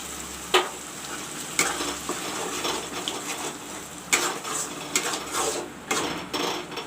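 Tomato puree fries in a pan with a steady close sizzle, broken by repeated scrapes and taps of a spoon stirring against the metal, no speech over it.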